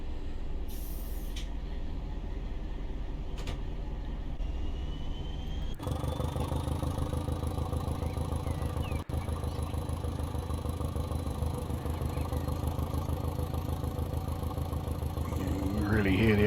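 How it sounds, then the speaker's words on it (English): A Class 205 DEMU diesel train in Train Simulator Classic on the Hastings to Tonbridge route, its engine thrumming in a deep, continuous low rumble with a brief click and a steady hum above, sustained throughout. "really hear the old thumper engine there. It is quite the weird old train, the old 205."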